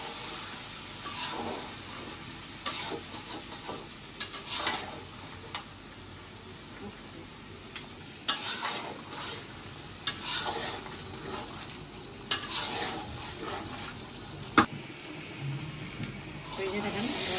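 Sweet, sour and spicy mango pickle stirred and frying in oil in a pan, a low steady sizzle with repeated scraping strokes, a voice now and then over it.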